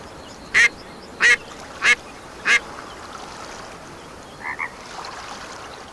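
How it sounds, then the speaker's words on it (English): Four evenly spaced duck-call quacks from the Way of the Hunter video game, loud and clipped, followed by two fainter, shorter quacks over a steady outdoor ambience. "I wish you could change the quack."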